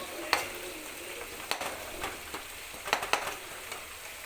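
Spices fry in hot oil for a mango curry, giving a steady soft sizzle broken by a few sharp clicks and scrapes of stirring, close and moderately loud with no talking.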